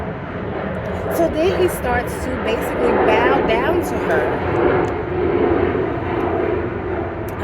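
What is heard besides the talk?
airplane flying overhead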